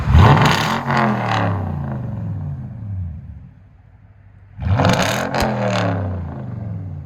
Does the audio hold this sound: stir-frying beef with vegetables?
no